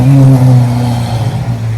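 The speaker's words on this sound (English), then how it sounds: "exotic cars rolling in here" Exotic cars rolling in with engines revving nearby, a loud steady low drone that rises slightly then holds.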